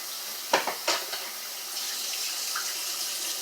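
Water runs steadily from a kitchen tap into a sink or container while cooking, starting with a couple of splashy bursts and then settling into an even, moderately loud rush.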